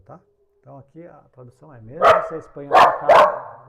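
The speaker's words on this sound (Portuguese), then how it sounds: "Se você ouviu o barulho de um cachorro latindo" A dog barks outside several times, three loud bursts standing out near the end, while someone talks over the start in Portuguese.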